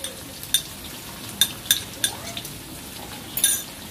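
Eggs fry in oil in a black wok beside vegetables for Thai noodles, a soft sizzle beneath repeated sharp metallic clinks and scrapes of a utensil against the pan.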